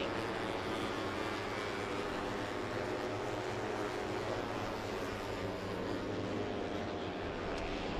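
UB150 race motorcycles pull out onto the Buriram circuit in Thailand during Asia Road Racing Championship qualifying, a dense, continuous engine roar holding steady and loud throughout with no talking.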